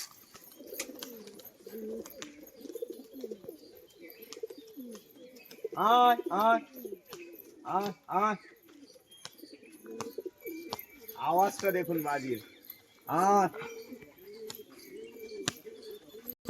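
Pigeons, including a green male, coo in repeated throaty bursts, loud and close, several birds overlapping against a quieter background murmur.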